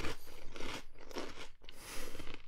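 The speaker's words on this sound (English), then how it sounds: "Cinnamon Toast Crunch is awesome." Crunchy Cinnamon Toast Crunch cereal chewed close to the mic, with a steady run of dense crisp bites and grinding crunches that pause briefly midway, then resume.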